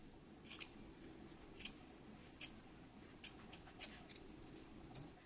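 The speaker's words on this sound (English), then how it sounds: "we can go ahead and trim down this seam allowance" Sharp fabric-shears snips trimming a sewn seam allowance on pants, about eight quiet crisp cuts spaced irregularly over a faint hushed background.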